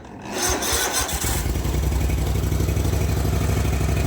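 A zero-turn mower engine with a freshly rebuilt carburetor and a slightly low battery cranks slowly for about a second. It then catches and settles into a steady, loud, close idle with no talk.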